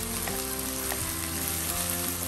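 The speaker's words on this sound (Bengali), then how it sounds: "মাছগুলো তুলে নেওয়ার পরে যে অবশিষ্ট তেলটা ছিল সেই তেলের ভেতরেই আরেকটু তেল অ্যাড করে পেঁয়াজগুলো দিয়ে দিয়েছি" Chopped onions frying in oil left over from cooking catla fish, a loud, dense and continuous sizzle heard close up without a break, no voices.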